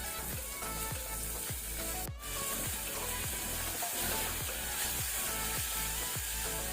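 Onion frying with salt in a pan over a medium flame for pepper chicken soup, a steady dense sizzle running throughout with rhythmic stirring scrapes and a brief dropout near the start.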